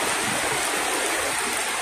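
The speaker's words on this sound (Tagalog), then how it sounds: "Lumakas ang tulo ng ulan." Heavy rain pours down at a deepwell pump repair site, a dense and steady hiss of falling water with no break.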